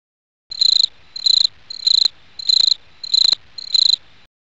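Insect-like cricket chirps in a Team Fortress 2 style game edit: six evenly spaced, shrill trilling bursts, each about half a second long, loud and close with no voices.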